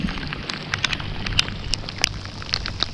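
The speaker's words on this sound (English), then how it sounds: "I got rain gear, but it just feels so good to be in some rain finally." Rain patters on saltwater around a Hobie kayak off Gasparilla, Florida, with scattered sharp drop ticks over a soft hiss, close and fairly quiet, no talking.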